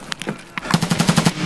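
An MK47 rifle fires in a video game, a few spaced single shots followed by a fast, loud burst of evenly spaced rounds, close and punchy.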